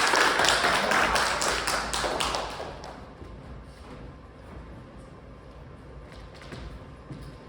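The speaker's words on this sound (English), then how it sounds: "please give them a big round of applause" Audience applauding improv performers at a teen summer camp show, a dense burst of clapping that is loudest at the start and then fades to a lower, scattered patter.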